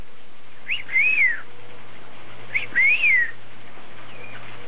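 A pet bird gives two clear whistled notes, each rising and then falling, spaced about two seconds apart over a faint steady hum.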